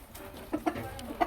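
Village free-range chickens clucking at morning feeding time, several soft, short clucks scattered over a faint outdoor background, fairly quiet and close.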